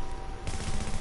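Sniper gunfire in the shooter game The Division, a burst of sharp shots with a louder crack midway, heard over steady game noise.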